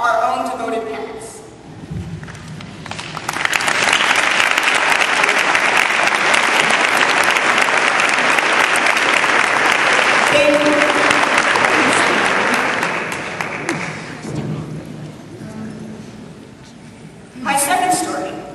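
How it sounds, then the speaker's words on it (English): A graduation ceremony audience breaks into loud, sustained applause that swells and fades over about ten seconds, with a speaker's voice before and after. "Let us now stand and applaud our own devoted parents."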